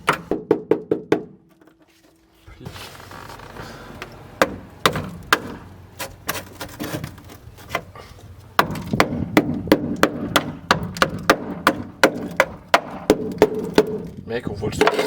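Sharp wooden knocks from a hammer strike in quick bursts while working on a car, then a steadier run of hard blows, loud and close, with a voice talking in the background.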